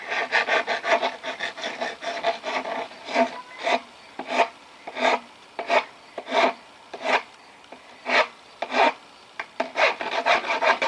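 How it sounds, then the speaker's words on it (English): The cut edge of a cast iron sewer pipe is rubbed against a concrete wall to knock off the burr, making a harsh rasping scrape in rhythmic strokes, quick at first, then slower, evenly spaced passes, up close. "we wanted to take the burr off the edge, we would just rub it against the concrete wall and get it"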